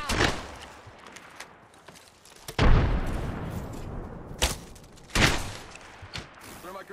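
A frag grenade detonates in Apex Legends amid a firefight, giving a loud boom with heavy low rumble, followed by further sharp blasts and gunfire bursts over steady game noise.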